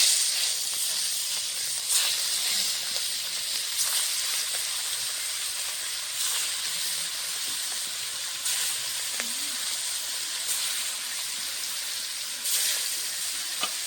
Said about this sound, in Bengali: তেলটা গরম হয়ে গেছে, মেখে রাখা মাছগুলো দিয়ে দেবো।